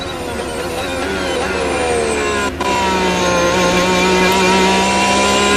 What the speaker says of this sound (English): Let's have a listen to the engine as he goes into turn 6, Harry.